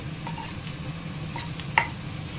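Chopped onions, lightly salted, sizzle quietly in oil while a utensil stirs them in a few soft scraping strokes, with one sharper clink near the end.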